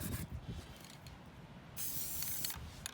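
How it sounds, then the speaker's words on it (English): Two short bursts of spray paint hiss from an aerosol can, one brief and one longer, close by, with light handling noises in between, while painting a homemade fishing spoon lure. "So we'll give that a quick spray on one side."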